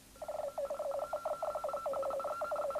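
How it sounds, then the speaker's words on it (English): A rapid warbling electronic tone representing the Mariner 9 spacecraft's radio signal, pulsing in quick repeated chirps, steady in pitch and rhythm, clear with no background noise. "Mariner 9's signal would sound something like this in comparison."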